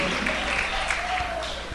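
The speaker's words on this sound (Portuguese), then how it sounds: "aplaudindo a Cristo com muita alegria" A church congregation applauds with continuous, joyful clapping that fills the room, while a preacher's voice carries over the top.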